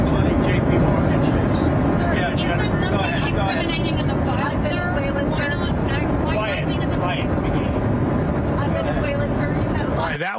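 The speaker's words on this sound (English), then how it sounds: "The plane noise is so loud." Loud airplane cabin noise, a dense constant roar, fills an onboard recording from start to finish, with people talking over it throughout.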